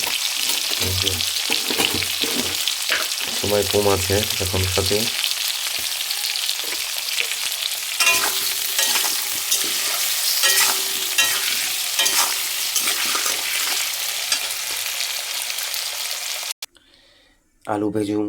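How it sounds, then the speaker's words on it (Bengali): Eggplant and potatoes fry together in a pan with a busy, continuous sizzle and crackle; a person talks over the frying, and the sound stops abruptly near the end. "সব একসঙ্গে ভেজে নেব।"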